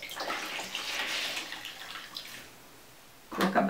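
Wet fabric is wrung out over a basin before dyeing, letting water splash and trickle down in a soft, uneven stream that fades away, followed by a brief clatter near the end.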